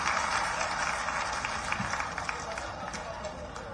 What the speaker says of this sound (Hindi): आपके जोरदार तालियों के बीच आमंत्रित करते हैं प्रभारी मंत्री जी को